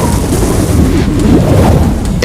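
Violent storm winds of a tornado roar continuously, a loud, dense rumbling buffet of wind noise with gusting surges throughout, no voices.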